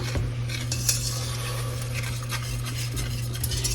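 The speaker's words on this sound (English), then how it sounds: "Let's get some of that stirred up in here." A utensil stirs milk into a hot coconut cream pie filling in a pot, soft steady scraping and swishing with a few light clinks over a constant low hum.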